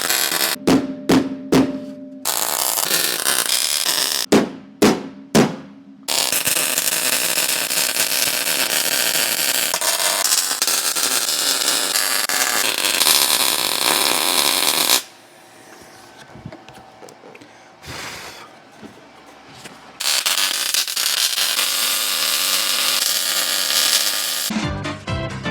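Welding on the rusty seat frame of a neglected Brick: loud, close bursts of crackling arc noise, a few short tacks at first, then long sustained runs broken by brief pauses, with no talking.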